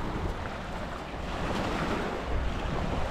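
Surf washing onto Minster Beach, a steady broadband rush of waves with wind buffeting the microphone, moderately loud and continuous with no voices.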